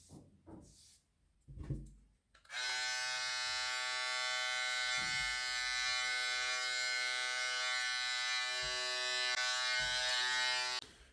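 A Philips Beardtrimmer Series 5000 BT5502/15 electric trimmer switches on after a couple of seconds of faint handling noise. It then buzzes steadily and close-up while cutting hair, running evenly until the end.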